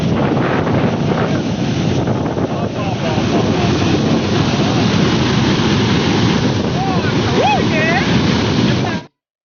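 A waterfall near Jagdalpur roars as a loud, continuous rush under heavy wind buffeting the microphone. Faint voices are heard in the background, and the sound ends abruptly.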